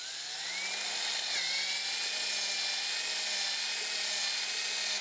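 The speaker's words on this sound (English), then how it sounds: "15/64 drill bit, and first going through and reaming out that little eyelet, and then I step up to the 1/4 inch bit" A power drill with a 1/4 inch bit reams out the eyelet of a flexible solar panel, giving a steady, high-pitched whine close by with a small dip in pitch early on.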